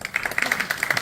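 A small group claps for Ashley at a Special Olympics dance workshop: quick, fairly even handclaps keep a steady patter throughout, moderately close and not loud, with no one speaking over them.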